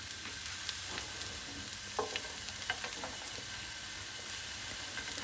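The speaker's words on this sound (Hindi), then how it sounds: "ऑयल डाला थोड़ा सा, ये देखें, ये तो करें ना ऑयल डाल। ठीक है, ये हम बस सूटेंगे।" Onions sautéing in a little oil in a pan for an omelette wrap breakfast give a steady close sizzle with scattered stirring scrapes and clicks throughout.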